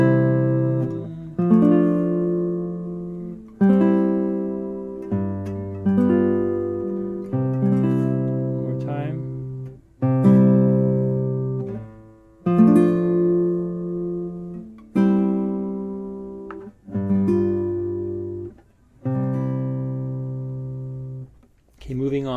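Classical guitar plays a cadence in a study from the Carcassi method, with chords plucked one after another in a slow, expressive rhythm that rings clearly and close by.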